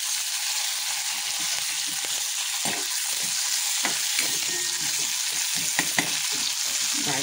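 Crushed garlic fries in hot oil for a dish of greens, a steady close sizzle with soft stirring taps and scrapes rising now and then above the constant crackle.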